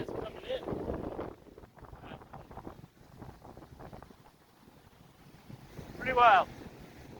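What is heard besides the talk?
wind blowing at the Bay of Fundy shore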